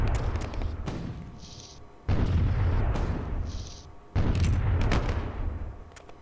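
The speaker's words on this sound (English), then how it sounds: "we're gonna do some defensive firing" A defensive volley rings out in Imperialism II, three loud crashing blasts spaced about two seconds apart, each decaying into rumble with sharp crackling shots layered on top.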